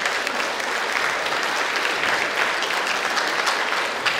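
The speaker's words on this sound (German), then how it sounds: "Jetzt haben sie applaudiert und wissen gar nicht, ob ihnen das Programm gefällt" Applause from an audience at a pensioners' Christmas party, a steady dense clapping that fills the whole stretch at close range with no pauses.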